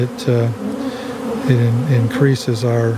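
Honey bees hum around queenless nucleus colonies in early April, a steady close buzz running throughout beneath a voice talking over it.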